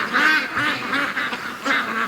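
Free-range ducks quacking near a swamp, several nasal honking calls in quick bursts, close and fairly loud, with overlapping calls and no speech.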